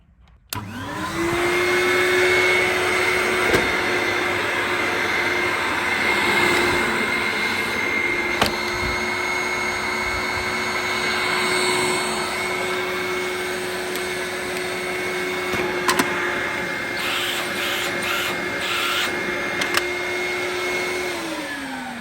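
A broken domestic vacuum cleaner being checked for repair in a commercial setting runs steadily for about twenty seconds, a loud droning motor whine with faint clicks and rattles, starting up and cutting off at the ends.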